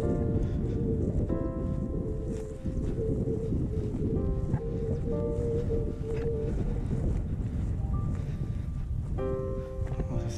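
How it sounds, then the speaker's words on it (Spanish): Steady wind rumbles against the microphone outdoors in dry, grassy drought country, a continuous low buffeting roar with no voices over it. "El viento no jode tanto, hay viento"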